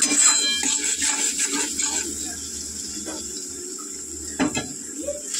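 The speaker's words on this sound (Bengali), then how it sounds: "খুব সুন্দর মশলা কষানো হয়ে গেছে" Spice masala sizzles as it is sautéed in a pan, a steady hiss broken by scraping and clinking of a utensil against the metal, with a sharper clatter near the end.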